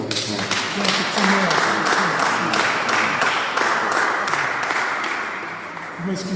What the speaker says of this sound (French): On applaudit pour les seigneurs.